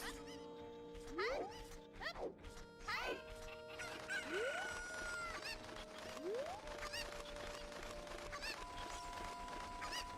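Chickens cluck and a rooster crows in the game Zelda Ocarina of Time randomizer, several rising calls and squawks layered over repeated steady electronic tones.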